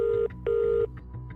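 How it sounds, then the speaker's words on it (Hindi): Telephone number dialed in a Hindi audio drama: two long, steady keypad tones, the second following a short gap, then softer trailing tones, close and clear with no talk. "अभिनव ने अगला नंबर अकरम का डायल कर दिया"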